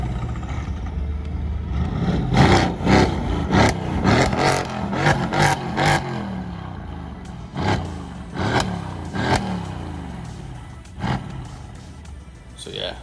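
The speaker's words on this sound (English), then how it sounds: "We've got a few revs coming from this AMG." A Mercedes-AMG car at a tuner show at Oulton Park is revved in a series of sharp blips, with a roar on each one. Some blips are bunched closely together and others come singly at wider intervals. Crowd noise carries on in the background.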